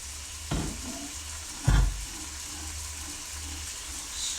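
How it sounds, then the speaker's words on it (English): Pasta being stirred in a pot beside diced beef frying in a pan, a soft steady sizzle with two louder scraping clunks from the spoon near the start. "Stir the pasta, yeah, because it's going to get stuck on the bottom."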